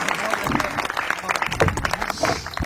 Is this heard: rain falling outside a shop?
no